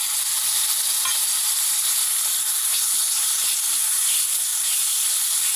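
Loud, steady hissing sizzle of chicken pieces frying in a pan for a jackfruit-seed chicken curry, close and continuous, with faint clinks underneath and no talking.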